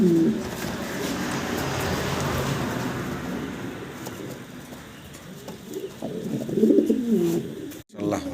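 Pigeons coo in low, throaty bursts near the start and again toward the end, over a steady background hum of distant traffic.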